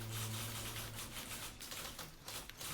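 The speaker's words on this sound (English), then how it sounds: "Oh, it's just typewriters." Several typewriters clack in the video game The Beginner's Guide, a rapid, irregular patter of sharp key strikes with a faint low hum beneath, heard close and with no one talking.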